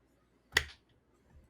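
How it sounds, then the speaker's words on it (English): Single sharp hand clap close to the microphone, a brief loud snap in near silence. "I don't want to clap for the microphone though"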